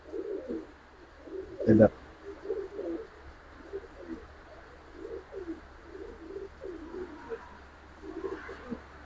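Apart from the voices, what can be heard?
Indian Kaldom pigeons cooing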